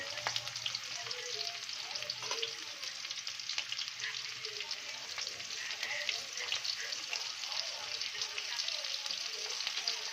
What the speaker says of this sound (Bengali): এখন একটু পেঁয়াজগুলো লাল লাল করে একটু ভেজে নেবো।